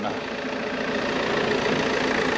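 Old car engine idling quietly, a steady low mechanical hum and faint rattle that stays even and continuous, close by with no talk over it.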